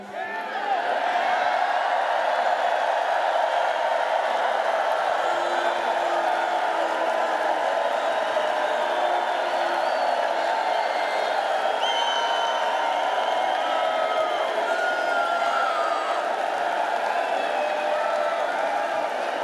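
Massive roar of many thousands of people packed into an arena for an election rally, a continuous loud wash of cheering and applause with no pauses throughout.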